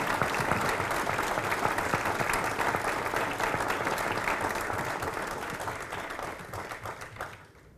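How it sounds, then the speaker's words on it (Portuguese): Sustained applause from a large audience at a closing forum session in Belo Horizonte, loud and dense throughout, thinning slightly toward the end. "eu quero pedir a todas e todos uma grande salva de palmas a todos os nossos funcionários."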